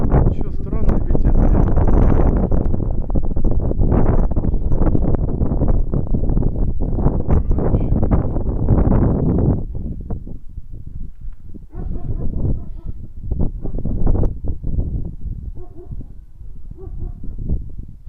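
Strong wind buffets the microphone outdoors where pigeons are being flown, a loud, continuous roaring rumble for about ten seconds, then easing into gustier, choppier blasts, with voices at times.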